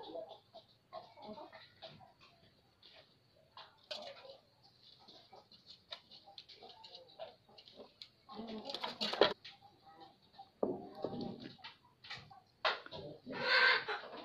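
Domestic pigeons flutter down to feed, with soft cooing and wing rustles mixed with scattered voices and movement noise at moderate distance.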